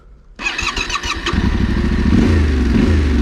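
A Honda CRF 300 L dual-sport motorcycle starts abruptly and revs loudly close by with a few quick throttle blips before settling into a steady, rising engine drone off-road, with no talking.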